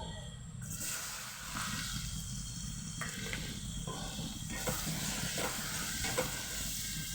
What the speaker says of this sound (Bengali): সুন্দরভাবে পেঁয়াজটাকে আমি ভেজে নেব ফ্লেমটা আস্তে দিয়ে আমি পেঁয়াজগুলোকে সুন্দরভাবে ভেজে নিচ্ছি